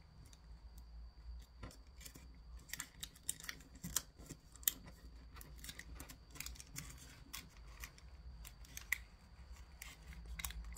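Sheets of paper are creased and folded into an origami Diplocaulus, making soft crinkles and sharp papery snaps in a continuous, irregular stream, close and quiet, with no voices.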